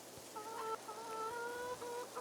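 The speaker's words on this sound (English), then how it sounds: "There goes our rooster." A rooster crows in Farming Simulator 22, one long sustained call with a couple of shorter breaks, clear and fairly close over a steady low background hiss.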